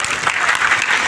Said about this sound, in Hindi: की जोरदार तालियां चाहूंगा।